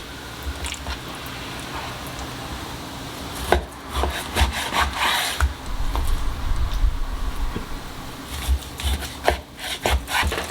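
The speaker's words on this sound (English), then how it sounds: "So we're gonna cut some nice little 6-8 ounce steaks." Knife slicing raw beef into thick 6-8 ounce steaks, with irregular rubbing, sawing strokes against a board and soft low thuds, close and moderately loud.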